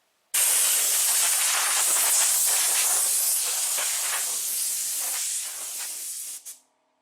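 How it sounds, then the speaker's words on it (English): A blow hose blasts sand and dust off a 3-piece forged wheel during wheel painting prep, a loud, steady, close hiss of compressed air that begins abruptly, runs for several seconds, fades, and cuts off sharply. "you want to take your blow hose and blow all that sand and dust up off of it"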